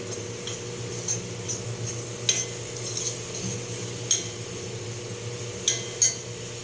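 Occasional light scrapes and clinks of a spoon stirring in a pan over a soft, steady background hiss.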